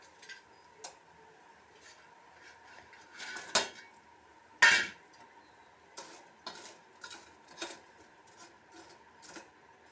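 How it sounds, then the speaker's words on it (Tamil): Hibiscus-shaped jalebis being dropped into sugar syrup in a pan, a quiet scene of light metallic clinks, taps and scraping utensil knocks, irregular and close, with a couple of sharper clanks. "எல்லா ஜிலேபியும் போட்டுருங்க."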